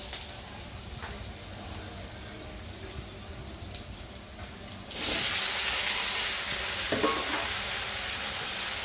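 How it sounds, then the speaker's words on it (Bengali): Flat beans and potatoes frying in a pan with green chillies, a continuous sizzle that jumps louder halfway through, with occasional stirring scrapes and no talk. "আর শিম আলু দিয়ে ভালো করে সবজিটাকে ভেজে নেব।"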